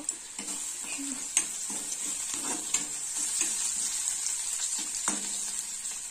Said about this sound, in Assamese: এয়া মই হালধি দিছোঁ তেলতে হালধি দি দিছোঁ